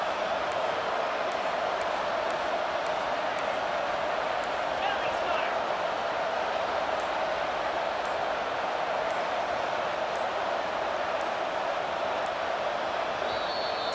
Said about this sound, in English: Listen to this crowd. Absolutely going nuts, trying to will their defense to stop the 2.